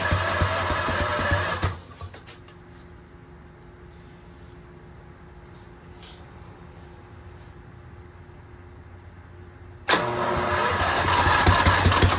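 A $400 Mighty Mac 8c skid steer, once seized and saved from a scrapyard, cranks and fires loudly for under two seconds, then drops to a low steady hum before roaring again near the end.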